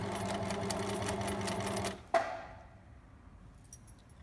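A sewing machine runs steadily for about two seconds, stitching a seam on a fabric bag, then stops with a sharp clunk, leaving quiet handling sounds.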